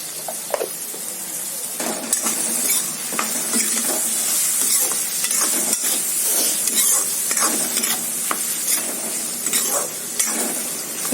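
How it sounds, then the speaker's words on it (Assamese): Tomatoes frying in a pan for egg curry, a continuous close sizzle with frequent scraping and stirring knocks from a utensil, loud and steady, no talk. "এইখিনি অলপ বিলাহীখিনি গলিয়ন হোৱালৈকে মই ভাজি থাকিম।"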